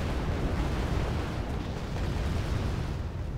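Heavy mortar shells landing in the Wargame: Airland Battle video game, a dense, continuous rumbling roar of overlapping blasts, loud and without pause.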